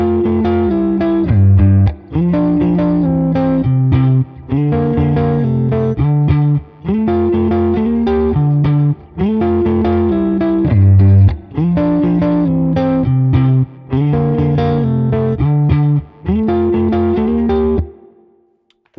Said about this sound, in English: just a slightly overdriven amp and a Strat on position 4